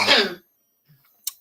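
A man with a sore throat gives one short, harsh throat-clearing cough up close, followed by a moment of near silence and a faint click.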